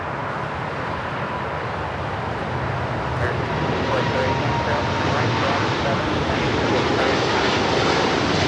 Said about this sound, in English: China Eastern 777-300ER now pushing it back.